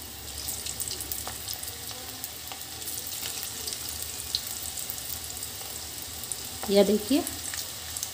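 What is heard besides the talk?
pakoda pieces frying in oil over high to medium flame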